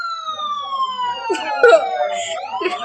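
A vehicle siren wails in a long descending sweep, loud and close as it passes, with traffic rumble and brief clatter underneath.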